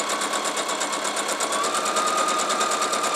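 A sewing machine stitching a quilt block, a steady, rapid mechanical rattle of evenly pulsing needle strokes running continuously at close range.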